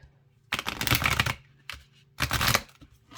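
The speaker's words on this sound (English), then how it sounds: "I'm not feeling like these cards really want to be shuffled." Two bursts of shuffling enormous cards, each a quick riffling flutter lasting about a second, close by and separated by a softer shuffle.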